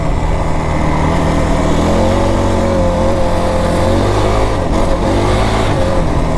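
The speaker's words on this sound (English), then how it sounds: "the Yamaha motor makes a racket. It's a noisy engine." A loud Yamaha YFZ450R ATV engine roars and revs continuously, its pitch rising and falling as the throttle changes, close by with no talking.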